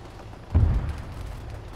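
A single mortar shell explodes in the military game ARMA 3 as a deep, muffled boom, fairly distant, with a short rumbling tail.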